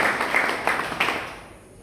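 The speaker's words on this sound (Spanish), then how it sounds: "Aplaudan al Señor." Congregation clapping in praise to the Lord at a church service in the Dominican Republic, a dense patter of many hands that quickly tails off, with a voice faintly under it.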